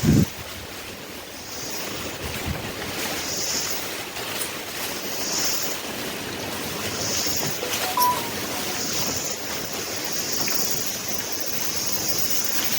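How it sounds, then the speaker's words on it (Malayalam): A steady wash of rain and wind noise fills the scene in Vagamon, Kerala, with gusts buffeting the microphone and no voices. "മഴയാണ്, നല്ല അത്യാവശ്യം മഴ പൊടിയുന്നുണ്ട്."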